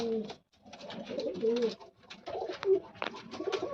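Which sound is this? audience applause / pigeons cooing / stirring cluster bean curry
pigeons cooing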